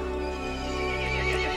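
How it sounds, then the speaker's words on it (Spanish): A horse in the horror video game Resident Evil Village lets out a loud, drawn-out whinny over a steady droning game score, with faint hoof clops beneath. "El caballo se enfureció y llamó a las otras criaturas."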